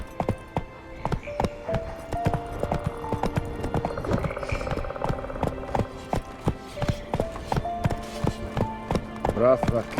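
Roach the horse galloping in The Witcher 3, a steady rapid clip-clop of hooves close by, with brief bursts of game music or voices layered over the rhythm.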